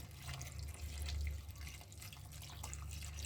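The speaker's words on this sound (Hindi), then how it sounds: "और इसमें डालूँगी मैं थोड़ा पानी," Water pours steadily into a steel pot holding raw mangoes, a soft continuous splashing trickle heard close and quiet with no talk over it.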